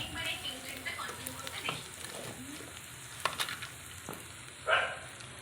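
A pan of spices with salt, turmeric and chilli powder sizzles and fries while being stirred, a quiet steady crackle broken by a few scraping clinks, with faint voices and a dog barking in the background.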